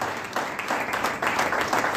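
Steady, fairly loud crowd applause rises in an indoor team-building seminar hall in Prayagraj as leaders are introduced, dense clapping continuing through the moment.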